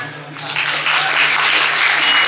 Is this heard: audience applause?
yes